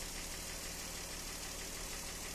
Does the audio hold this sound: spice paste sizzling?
no